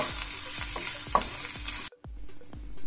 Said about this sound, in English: Now saute it for 30 seconds.